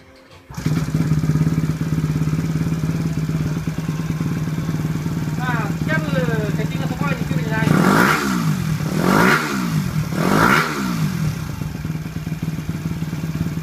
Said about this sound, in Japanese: それではエンジンしていきます。